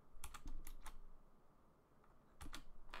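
Bursts of computer keyboard typing during a Mortal Kombat 3 gaming session, quick clustered clicks near the start and again near the end with a brief pause between, close and fairly faint.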